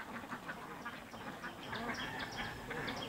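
A flock of Bầu Quỳ ducks quacks steadily on a duck farm in Nghệ An, many overlapping calls forming a continuous, fairly faint chorus.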